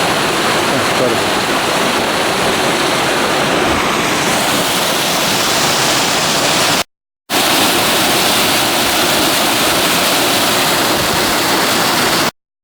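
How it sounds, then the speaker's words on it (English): A waterfall on the Ice Lake Trail in Colorado pours into a valley, a loud continuous rushing roar that briefly cuts out before resuming. "here's where the water falls into that valley out there"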